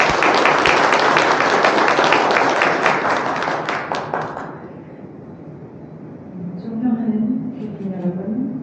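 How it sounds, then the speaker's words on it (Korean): A symposium audience gives a hall-filling round of applause to welcome a speaker, a burst of many clapping hands that fades after about four seconds. A voice then begins speaking into a microphone. "큰 박수로 모시겠습니다"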